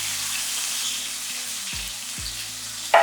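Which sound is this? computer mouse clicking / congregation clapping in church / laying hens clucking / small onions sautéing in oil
small onions sautéing in oil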